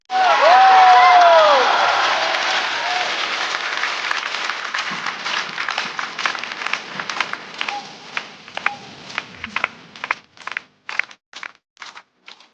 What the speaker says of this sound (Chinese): 掌声欢迎菜菜